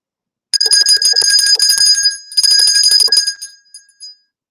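Bright metallic bells ring in two clustered bursts, a rapid jangling chime that fades out with a few scattered final strikes.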